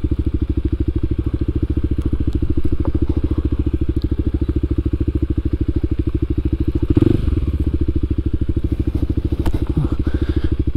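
A Kawasaki KLX300 dual-sport motorcycle on a trail, its single-cylinder engine thumping in a steady, fast, close rhythm the whole way, with a brief rough clatter and bump partway through; no talking.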